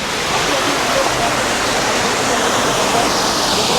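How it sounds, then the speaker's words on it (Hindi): A mountain forest waterfall pours with a steady, dense rushing hiss, close and constant, with no other sound standing out over its short span. "और यहाँ पर झरना भी काफ़ी प्यारा है।"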